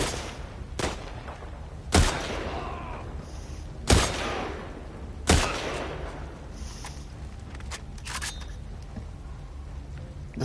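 Sniper gunfire on Scar Island in The Last of Us Part II: several sharp, loud single shots spaced a second or two apart, echoing over a quieter background with fainter pops between them.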